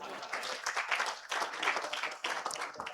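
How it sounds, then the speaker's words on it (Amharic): A church conference congregation claps along in bursts, the crowd's applause swelling and dipping in rhythmic waves with a brief pause near the middle, over a busy, reverberant hall. "አጨብጭቡና አሜን በሉ።"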